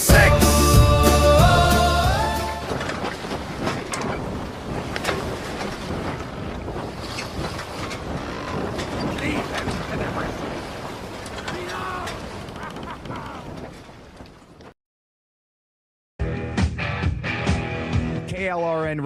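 A radio promo filled with sailing-ship and ocean effects: wind rushing, waves washing and creaking timbers under music, loud and continuous, broken by a brief silence before the music returns.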